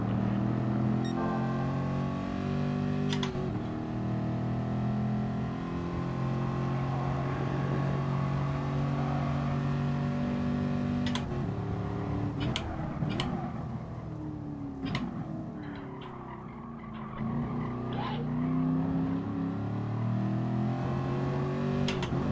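A race car engine in Gran Turismo Sport whines through gears on a track, its pitch dropping and climbing as it downshifts through a chicane, loud and continuous.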